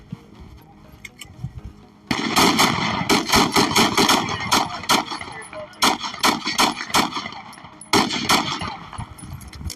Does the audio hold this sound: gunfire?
yes